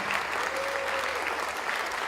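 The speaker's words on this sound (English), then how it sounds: "Please give them a round of applause." An auditorium audience at the Orlando Museum of Art claps for the venue during a launch-night event, with dense, steady applause filling the whole stretch at moderate loudness.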